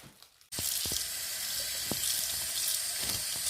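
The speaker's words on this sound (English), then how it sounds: "you have to use like quite a lot of water to make sure the paint comes off" Tap water runs steadily into a sink, rinsing Mise en scene hair dye out of hair. After a brief quiet start, it becomes a close, continuous splashing rush with no voices.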